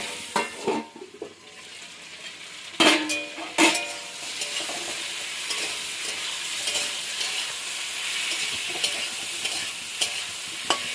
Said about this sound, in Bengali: আলু বেগুনটা ভেজে নিয়েছি